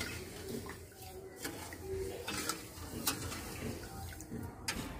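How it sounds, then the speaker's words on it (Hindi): Sugar is stirred into water in a pan, a soft continuous swishing and sloshing with faint scrapes of a spoon against the metal, quiet and close, with a voice talking faintly in the background. "अब चीनी को हम जब तक चलाएंगे जब तक अच्छे से गल नहीं जाएगा।"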